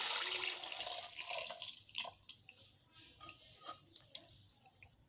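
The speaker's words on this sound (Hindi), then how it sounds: "अब डालेंगे इसमें ये 1/2 किलो हमारा पानी है, ये पानी डालेंगे इसमें हम" Water pours from a container into a cooking pot for beef and pumpkin curry, a splashing rush at first that thins into scattered drips and small trickles, close and fairly quiet.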